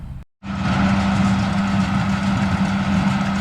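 An Allis-Chalmers 180 tractor idles close by on a hay-baling farm, a steady loud diesel rumble with a low droning hum that runs on unbroken after a brief cut at the start.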